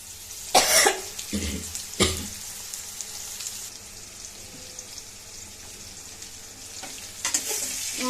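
Small fish frying in plenty of oil as a ground paste of cumin, a little onion and garlic is added, with a broad sizzle and a few loud bursts of spattering and stirring near the start and end.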